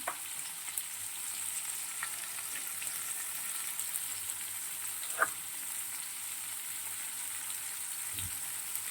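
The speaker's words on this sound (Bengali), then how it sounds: "এবার আমি এতে" Chopped onion just added to potatoes frying in a pan makes a steady, moderate sizzle with a few scattered clinks of a stirring utensil.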